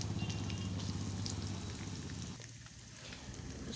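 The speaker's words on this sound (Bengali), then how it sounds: "একে একে সব ভেজে নেব" Garlic, ginger, tomato, coconut, green chili and onion frying in oil, a steady close sizzle and crackle running throughout, easing slightly partway before picking back up.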